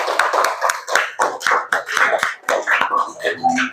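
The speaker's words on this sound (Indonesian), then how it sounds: "Kasih tepuk tangan." A burst of applause from a group of students in a classroom, many hands clapping together in quick, steady rhythm, close and fairly loud for several seconds.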